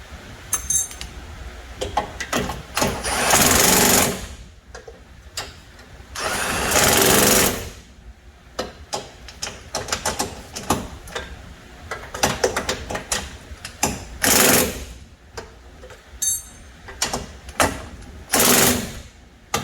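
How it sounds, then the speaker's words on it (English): Impact driver pressing in the front engine mount of a 2006 Toyota Corolla S, firing in several loud, harsh rattling bursts of a second or two each, separated by quieter clinks and shop handling sounds. "Now we're going to force it in with the drive"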